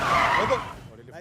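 A car skids to a halt on braking, a loud rushing tire screech that swells and then dies away within about a second, followed by near silence.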